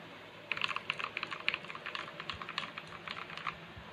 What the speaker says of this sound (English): I lubed my Otamu Blue switches with air conditioner, and now they sound like browns.